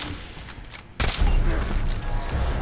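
Fallout 4 gunfire crackles as a sustained fusillade of shots that becomes suddenly louder and denser partway through, with heavy low booms under the rapid reports.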